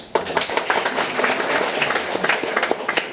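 Delegates at the opening of a 2021 metal industry labor-management central bargaining session clap together, a moderately sized group whose individual claps stand out in an uneven, lively patter.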